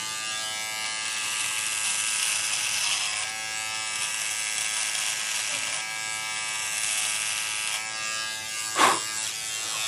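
Electric body hair groomer switched on and trimming, a steady close electric buzz running for about ten seconds, with a brief louder scrape near the end and no talking.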